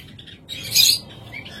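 Budgerigars at a bird seller's stock chirp in short high bursts, one louder squawk standing out midway among softer twittering, with no voices.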